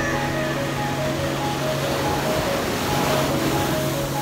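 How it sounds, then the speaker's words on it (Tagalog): Strong ocean waves surge on Tara Beach, a steady, dense wash of surf filling the whole stretch with a low, continuous roar and faint tonal hums beneath. "Lakas ng alon guys, kaya mahirap maligo."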